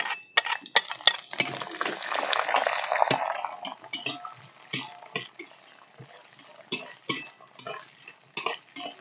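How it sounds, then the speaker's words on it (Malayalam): Sliced onions hit a pan of hot, well-roasted peanuts: a burst of sizzle-like hiss, then steady scraping and clinking of a utensil stirring against the pan, near and fairly quiet, with no talking. "അപ്പോൾ നമുക്ക് അതിനകത്ത് ഉള്ളി ഇടാം."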